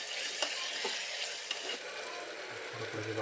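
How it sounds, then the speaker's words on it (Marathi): Tomatoes sauté in a pan for Maharashtrian masala rice, a faint, steady hiss of frying with a couple of soft stirring clicks throughout. "टोमॅटो पण चांगलं परतून घेऊया।"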